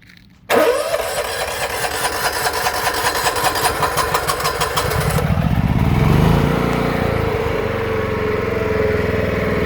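A 1999 Kubota ARX 6500 generator cranks and fires, then its engine runs loud and close with a steady chugging rumble that rises slightly as it settles into idle.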